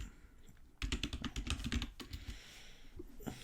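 Rapid typing on a computer keyboard while entering a code, a close burst of quick clicky keystrokes lasting a couple of seconds before trailing off into quieter room tone.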